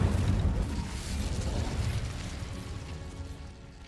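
A fire spell is cast in a Hogwarts wizarding video game, setting off a roaring burst of flame that starts loud and gradually fades over a few seconds, with no talking.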